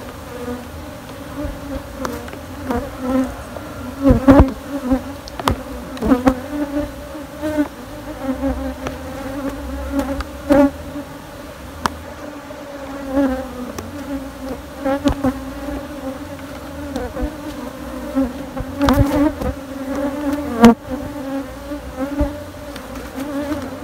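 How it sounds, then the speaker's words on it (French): Bees buzz steadily around a hive built inside three stacked tyres, a dense close drone with sharper passes as individual insects fly near, continuing without talk. "c'est une très belle ruche apparemment."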